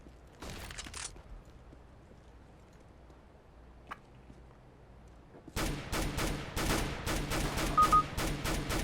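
A short early burst of CS:GO gunfire and a lone shot give way to a long run of rapid automatic rifle sprays, loud, sharp and closely spaced, in a Counter-Strike: Global Offensive match.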